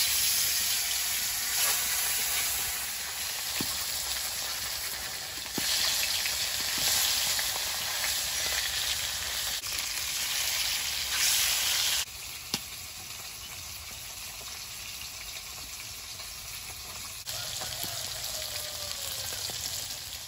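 Fish frying in hot oil in a wok, with a steady, close sizzle and crackle that continues evenly throughout without talk.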